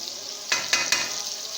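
Masala with tomatoes, green chillies, red chilli powder and salt frying in a pan for bitter gourd and onion salan, a close hissing sizzle with three quick stirring scrapes.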